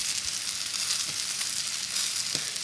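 Paneer with spices, sprinkled with Kashmiri chili powder, frying in a pan with a steady, close hiss of sizzling and a couple of faint scraping knocks, no voices.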